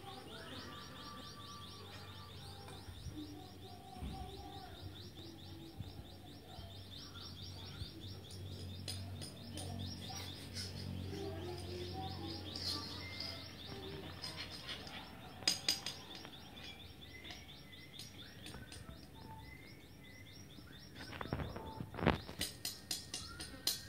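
Java sparrow parents feed their chicks at a nest, with many thin high chirps and excited begging calls in quick bursts, nearby and fairly faint, growing busier toward the end.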